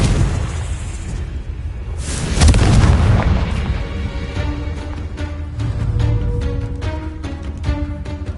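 Confringo blasting spell explosions in the video game Hogwarts Legacy: a loud booming blast around the middle, followed by crackling, ringing magical debris and rumbling echoes, with no talk.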